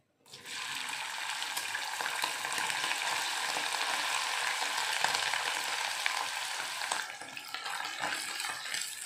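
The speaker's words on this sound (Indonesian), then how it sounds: "Ayamnya sudah disuwir ya. Sekarang kita goreng dulu sebentar" Shredded chicken fries in a pan, a steady broadband sizzle and crackle that starts abruptly and holds at an even, close level throughout, easing slightly toward the end.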